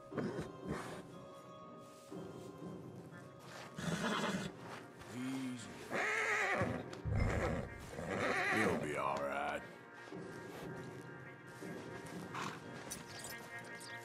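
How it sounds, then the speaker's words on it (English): Horses whinny loudly several times over steady clip-clopping hooves, with voices talking in between in Red Dead Redemption II. "Javier, you're gonna lead the stallions."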